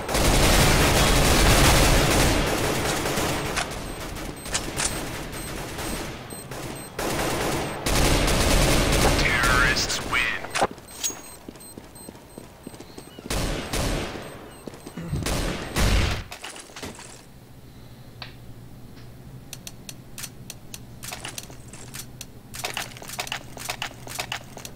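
A decoy grenade fakes gunfire in Counter-Strike: Global Offensive, rapid bursts and single shots rattling loudly in clusters, then quieter scattered pops as the bursts die down.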